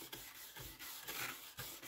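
Sandpaper rolled up and rubbed by hand over car primer gives faint rhythmic rasping strokes, several back-and-forth passes close by with short pauses between them.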